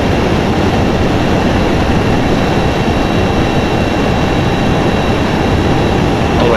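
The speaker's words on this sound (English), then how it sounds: "I think I should go full thrusters now." Darkstar hypersonic jet thrusters at full power in a flight game, a loud, unbroken roaring rush that holds constant from start to finish.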